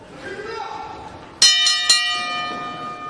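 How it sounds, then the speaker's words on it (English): Wrestling ring bell struck at the start of a Heartland Champion Wrestling match, two loud bright clangs about half a second apart ringing out over crowd noise, after a commentator talks. "Ring the bell. Bell is rung,"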